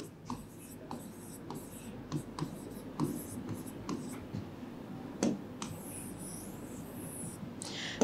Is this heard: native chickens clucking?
no